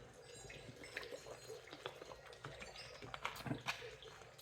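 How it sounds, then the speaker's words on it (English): Faint, steady trickle and splash of an outdoor water fountain, heard distantly as if through a window, with scattered small drips and clicks. "You're gonna hear the water fountain out front, out through the window."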